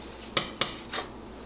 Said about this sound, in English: Let me stir this around in here.